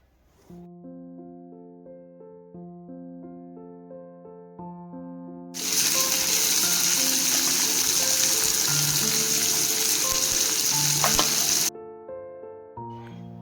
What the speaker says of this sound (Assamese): আৰু এতিয়া এইখিনি ভাজি ল'ম